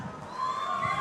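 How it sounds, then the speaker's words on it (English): Young audience shouting and cheering at an AI conclave and data centre inauguration in Visakhapatnam: a brief, steady crowd roar that swells slightly toward the end, heard at a distance. "That is the way young people will shout."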